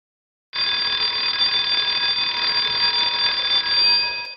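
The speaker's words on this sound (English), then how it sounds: "I know it's kind of hokey to have an alarm clock going off" An alarm clock goes off with a loud, steady electronic ringing that starts abruptly after half a second of silence and continues unbroken to the end, with no voices.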